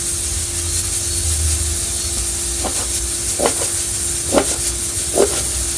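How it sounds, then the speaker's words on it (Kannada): A kitchen pressure cooker that hisses loudly instead of whistling, giving a steady, strong hiss and a low hum, with a few soft knocks near the end. "ನಮ್ಮ ಕುಕ್ಕರ್ ಬಿಸಿಲು ಬರಲ್ಲ ಸೌಂಡ್ ಮಾತ್ರ ಜೋರಾಗಿ ಬರ್ತೈತೆ"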